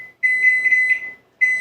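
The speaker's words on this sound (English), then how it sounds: "I actually will set a timer" A kitchen timer sounds a loud, steady high-pitched electronic beep that holds for about a second, stops briefly, then starts again, with nothing else audible.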